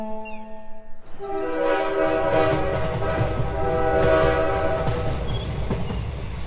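A train runs steadily with a loud rumbling, clattering roll, preceded and joined by a long, tonal horn blast, the whole passage heard alone without speech.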